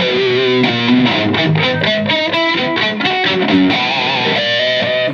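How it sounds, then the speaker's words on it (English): An electric guitar plays a melodic line through distortion with a slow-running flanger's sweeping whoosh and delay echoes trailing each note, loud and close. "we're going to add a very slow running flanger. It's kind of a sweeping effect."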